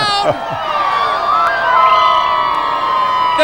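A crowd cheers and shouts inside Province House in Charlottetown, a dense, loud, continuous roar of many voices with whoops rising throughout.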